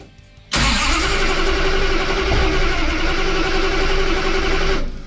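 A 1970 Dodge Challenger engine turns over on the starter without catching, a steady loud near cranking drone that runs for several seconds and then cuts off.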